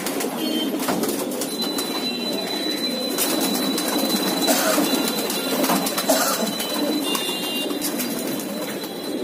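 Many pigeons coo steadily and continuously inside a loft in Mumbai, India, where birds are kept for sale, forming a dense, soft, overlapping murmur with no pauses.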